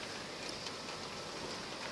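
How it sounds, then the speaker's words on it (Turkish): Hail falls outdoors in Ankara as a dense, steady hiss of countless small impacts, soft and even throughout with no voices over it. "Baksanıza dolu yağıyor."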